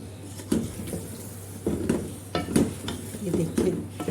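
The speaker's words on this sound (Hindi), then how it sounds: "अब इसमें जो 2 अदद प्याज फ्राई करके रखे हुए थे ना मैंने, वो चले जाएंगे इसमें।" Fried onions go into a pot of aloo gosht and are stirred, producing repeated scraping and clanking of a spoon against the metal pot over a faint sizzle, close by, with no speech.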